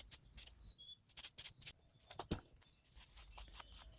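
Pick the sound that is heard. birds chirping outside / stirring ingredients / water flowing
birds chirping outside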